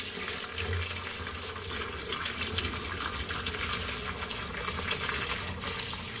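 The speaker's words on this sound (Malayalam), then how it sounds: "നമുക്കിത് അരിപ്പിലേക്ക് മാറ്റാം. ഇതിലേക്ക് ലേശം പച്ചവെള്ളം വെച്ചിട്ട് കഴുകാം." Cold tap water runs steadily over cooked homemade noodles in a strainer, a continuous close splashing rush that fills the whole stretch.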